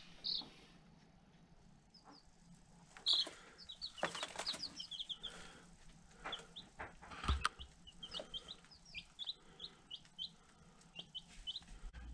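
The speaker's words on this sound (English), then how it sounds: "The chickens are in here and they're doing well" Chickens chirp and cluck softly indoors, scattered high peeps and occasional wing flutters against a quiet background.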